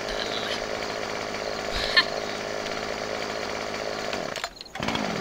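Virtual chainsaw in Farming Simulator 2015 cutting a tree, a continuous close, harsh buzzing whine that briefly drops out near the end before resuming.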